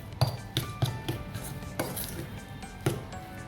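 A spoon clinks and knocks against a bowl while spiced pani puri stuffing is mixed with chili powder and salt: a handful of sharp, irregular taps close by, with no talking.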